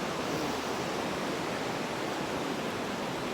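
Ocean waves give off a steady, broad wash of surf noise. It is even and continuous with no distinct breaks or voices, at a moderate distance and fairly quiet.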